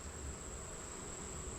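Honeybees buzzing inside a hive box during an August inspection, a steady close drone with a high whine and no talk.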